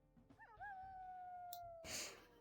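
A single dog gives a long howl that rises quickly and then holds a steady, clear tone for over a second, close and strong, ending as a burst of rough noise cuts in.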